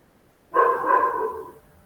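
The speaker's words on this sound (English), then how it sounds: "whose dog is it?" A single dog bark or short yelp, fairly near and moderately loud, heard alone in a quiet room, with no speech over it.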